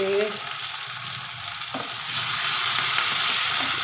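Tomato fries and gets stirred in a pan, giving a close, steady hiss that grows a little louder and denser toward the end, with no talking.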